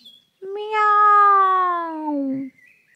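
One long, clear meow from a black cat, close and loud, rising and then fading over about two seconds in an otherwise quiet setting.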